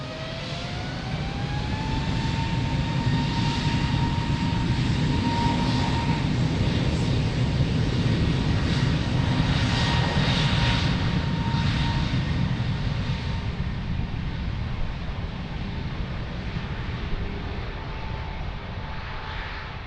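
An airliner takes off from runway 02 at Lisbon Airport, its engines roaring loud and sustained for the whole stretch with a rising whine early on, gradually receding toward the end.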